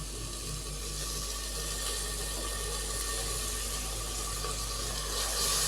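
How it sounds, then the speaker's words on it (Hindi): Water goes into a pot of frying spices, ground cumin and dry coriander powder, while cooking a village-style pumpkin and chana dal curry, making a steady, loud, continuous hissing rush throughout without talking. "थोड़ा सा पानी डालेंगे।"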